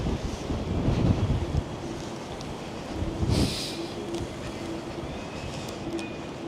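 Strong gusty wind buffets the microphone outdoors on a Manhattan street, a steady loud rumble with a couple of stronger gusts and faint traffic hiss underneath.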